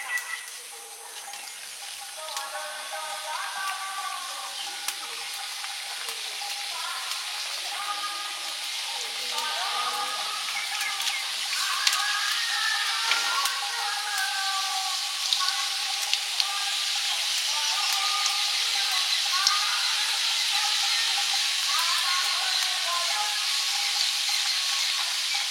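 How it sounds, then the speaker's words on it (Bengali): Puris frying in hot oil give a steady, bright, close hiss that swells slightly over time, while a voice talks intermittently above it. "প্রথম রাউন্ড পুরি ভাজা হয়ে গেল।"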